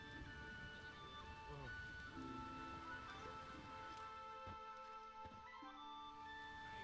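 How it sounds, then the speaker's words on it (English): Steady rain falls throughout a rainy village scene in The Witcher 3, a constant hiss and patter under tonal music, with a voice speaking over it at times. "There's no point standing here in the rain"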